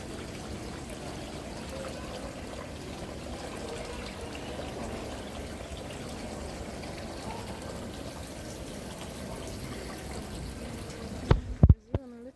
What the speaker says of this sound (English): I love hearing the water trickle.